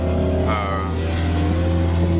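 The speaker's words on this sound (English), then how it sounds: "Oh look, there goes a Camaro, a little racer flyby" A Chevrolet Camaro races past, its engine roaring loudly and steadily throughout the short flyby with a rising whine partway through, close and alone without talk.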